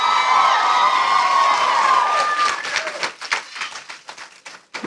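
A crowd at a veterinary school ceremony cheers and whoops loudly, then steady applause with clapping takes over, fairly close and energetic, fading slightly at the end.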